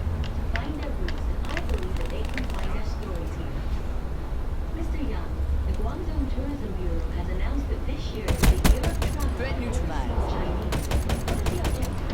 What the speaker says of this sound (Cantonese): 開槍啲聲俾人發現到